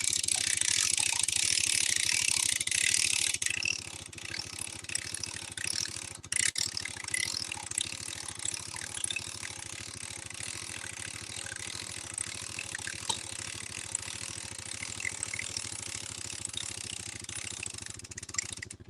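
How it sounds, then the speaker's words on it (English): A ratchet crank on a bale roller is wound to lift a hay bale outdoors, making a fast, continuous clicking of the pawl that runs close and steady for the whole stretch, louder at the start. "we'll go ahead and crank up our hay bale"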